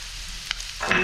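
Coriander leaves dropped into a pan of frying taro root (colocasia), with a soft, steady sizzle that suddenly swells louder near the end as the oil spits.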